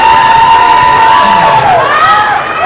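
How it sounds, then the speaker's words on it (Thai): At a Marvel Studios The Marvels launch event, an audience cheers and applauds for a young guest, with high, drawn-out screams and shouts over a steady bed of clapping and crowd noise. "ขอเสียงปรบมือนิดนึงให้กับฮีโร่สาวของเราเลยครับ"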